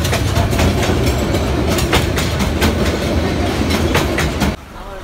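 A train arrives close by with a loud, continuous rumble and steady rhythmic clickety-clack of wheels on rails that cuts off abruptly near the end.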